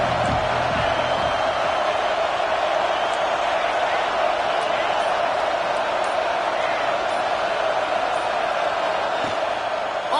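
A stadium crowd at a football game keeps up a continuous, loud roar, steady in level throughout, with a commentator's voice running over it.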